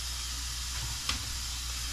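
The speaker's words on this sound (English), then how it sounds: "we're gonna render down 3 strips of bacon that I've cut in small pieces" Three strips of bacon, cut into small pieces, sizzle steadily in a hot pot, with a continuous close frying hiss and one brief louder pop or stir partway through.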